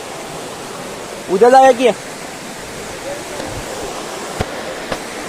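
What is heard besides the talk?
overflowing stream water rushing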